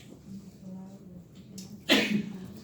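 A single sharp sneeze bursts out near the end, loud and close, after a stretch of low background murmur in a quiet indoor setting.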